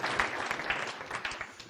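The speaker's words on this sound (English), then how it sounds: "Give him a nice round of applause." Audience applause at a hypnosis demonstration, a short burst of steady clapping from a small crowd heard up close.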